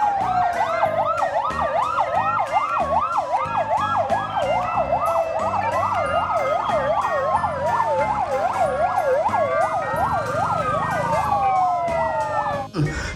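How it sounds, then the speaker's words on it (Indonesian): Toy fire engine siren wailing continuously and loudly, a rising-and-falling electronic tone repeating throughout, close and dominant with a steady electronic backing beneath. "Wow, lihat teman-teman, di sini ada pemadam kebakaran."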